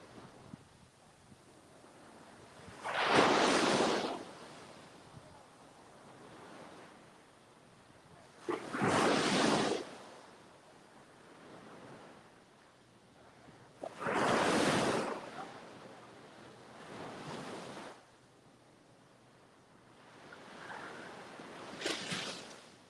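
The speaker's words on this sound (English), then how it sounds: "Tide's coming in, got waves washing up." Ocean waves wash up a beach at Panama City, Florida, as the tide comes in, each surge swelling into a broad hiss and fading, about four of them in slow succession, fairly close, with no talking.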